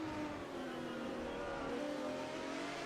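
A BMW M1 Procar race car in the 1980 Procar series at Donington Park, downshifting into the chicane. The engine roar is loud and steady, with its pitch stepping down as it blips through the gears.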